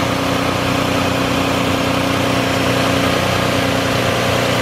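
A 2000 Isuzu Rodeo with a 3.2 liter engine and about 76,000 miles runs at a steady idle, a loud, close, continuous mechanical hum with no voices.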